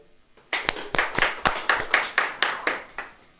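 An audience claps in unison at a sermon, about eleven sharp rhythmic claps in a steady beat after a brief quiet start, fairly close and loud.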